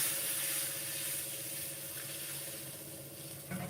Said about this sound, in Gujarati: તો હું દૂધ નાખું છું